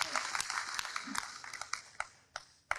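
At a Hindi poetry recital, an audience claps in a loose scatter of individual claps that thins out into a few isolated, sharp claps.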